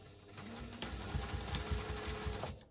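A sewing machine with a zipper foot stitches a zip for a crossbody bag, a steady close mechanical whirr with rhythmic thumping needle strokes throughout.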